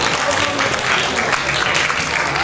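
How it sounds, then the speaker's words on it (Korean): An audience at a high school Ignite talk event applauds to welcome a student speaker, with loud, dense clapping that runs steadily throughout. "박수로 맞이해주시기 바랍니다."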